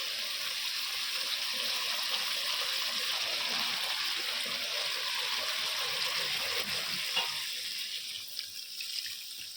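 Water runs steadily into a cooking pot at home, a continuous splashing pour that thins and eases toward the end, with no voices.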